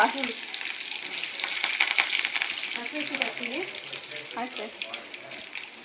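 Ginger garlic paste, onion, tomato and spices frying for a crab dry dish, a steady bright sizzle with frequent stirring and scraping, moderately near, and faint background voices.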